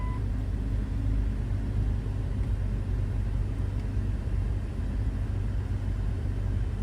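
A car engine with its throttle position sensor unplugged is cranked and restarted, giving a steady, close, continuous low rumble that runs unbroken with no voices.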